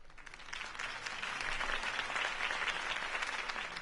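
Crowd applause at a Harvey Dent campaign rally in the game Batman: The Telltale Series, a moderately quiet wash of many hands clapping that builds slightly and stays steady, with no voices.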